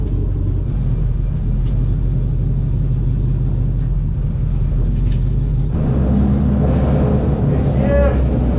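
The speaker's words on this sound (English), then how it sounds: "I'm gonna make sure the trans does all the shifting it's supposed to do here." Willys Wagon engine idling and running with a deep steady rumble, loud and close, changing in tone partway through as the transmission shifts, with a voice briefly heard near the end.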